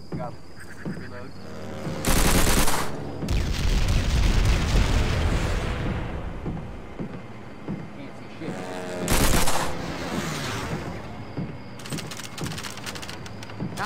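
Call of Duty: World at War basic training: a Thompson submachine gun fires bursts at targets, loud rapid automatic fire in two main volleys with quieter in-game sounds between.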